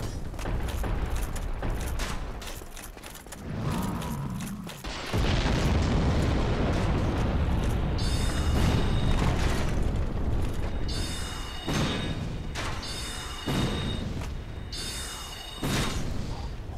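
Repeated heavy booming cannonball explosions in the video game Dark Souls, at Sen's Fortress, burst over a rumbling roar, with sharp cracks and metallic ringing tones between blasts, loud and close.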